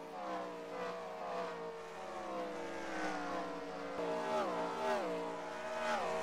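Stock-car engines drone at the Circuit of the Americas (COTA) track, several cars in a race passing with rising and falling whining pitch, a steady mid-distance roar that grows slightly louder near the end.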